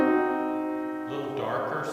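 A diminished triad rings out as a held keyboard chord in a music theory lecture, sustained and fairly loud, with the sound blurring into a noisier wash in its second half and no talk over it.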